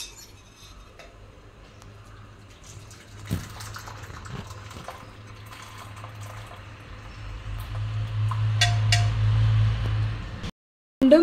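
Melted jaggery syrup strained from a pan, a quiet liquid pouring and trickling that slowly builds in strength, with occasional light metal clinks of utensils.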